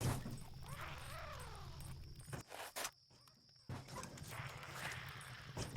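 Repeated thudding footsteps of scavenger creatures in the game Parasite Eve 2, with a clip-clop quality over a steady mechanical hum, briefly cutting out before resuming.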